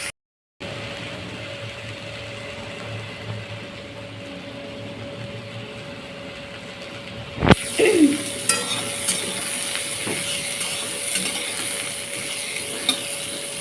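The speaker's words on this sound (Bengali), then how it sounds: "পেঁপেটা ভাজা হতে থাক" Pieces of papaya fry in a little oil in a pan, with a steady broadband sizzle throughout, then a sharp clatter partway through followed by louder, busier crackling and stirring, and no talking.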